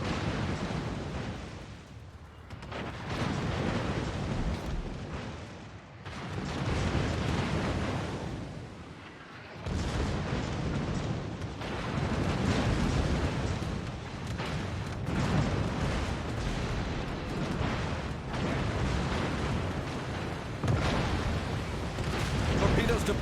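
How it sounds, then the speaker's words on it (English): Heavy booming explosions from a ship on fire in a naval battle video game roll on continuously, with speech heard over the din of the fighting. "Torpedoes to port. The ship is on fire."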